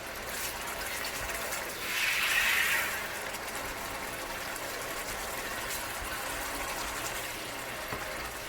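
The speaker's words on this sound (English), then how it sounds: "So now we can add a little bit of water here" Water pours steadily into a pan of beans masala, a brief louder gush of splashing over a constant hissing background, with no voices.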